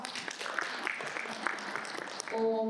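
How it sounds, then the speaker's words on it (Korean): Applause from an audience after a lecture, a dense patter of clapping that fades at the end into a brief held musical tone. "다시 한번 박수 부탁드리고요"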